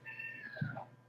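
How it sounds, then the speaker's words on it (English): A tiny kitten gives one short, high, rising-then-falling meow, close and soft, with a faint low bump near the end. "You're such a sweet little kitten."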